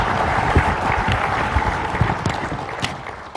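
Audience at a 2013 JFK assassination conference clapping for researcher Robert Groden, a dense, steady round of applause from a seated crowd that tapers slightly at the end.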